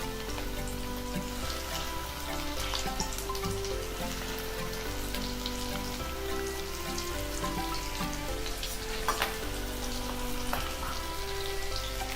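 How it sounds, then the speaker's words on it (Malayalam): Steady crackling sizzle of onion rings frying in hot sunflower oil, continuous and fairly loud throughout, with a low hum underneath and no voices. "നമുക്കൊന്ന് ഓരോന്നായിട്ട് വറുത്തെടുക്കാം."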